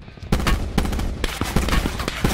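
Rapid automatic gunfire from the Call of Duty Blackout game, loud close bursts of repeated shots rattling continuously for a couple of seconds.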